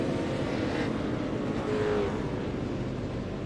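Supercar engine in an iRacing race at Michigan International drones continuously at a steady, moderately loud level with no speech.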